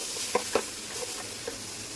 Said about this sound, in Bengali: এখন মশলাটা আমি একটু ভাজা ভাজা করে কষিয়ে নেব।